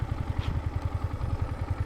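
A Yamaha MT 15 motorcycle engine runs close by with a quick, even pulsing thrum and light mechanical clatter, steady throughout the brief moment.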